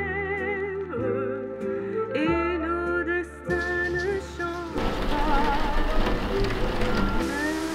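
Rain starts falling partway through, a dense steady hiss that swells in after a stretch of tonal, music-like sounds and continues to the end.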